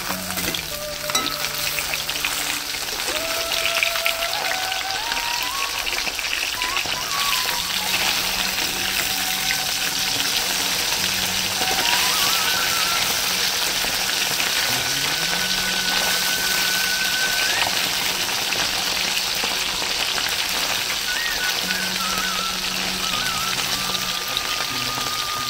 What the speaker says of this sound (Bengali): মাছগুলো আমি লাল করে ভেজে নেব।